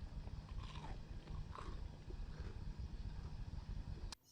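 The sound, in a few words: homemade potato chips frying in oil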